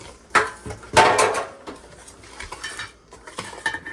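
A spoon mixes sugar into a dish, with two sharp clinks against the bowl early on, then lighter scraping and tapping that continue quietly.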